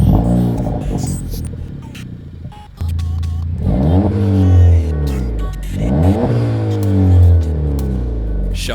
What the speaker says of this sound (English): let's fire the cheeky motor up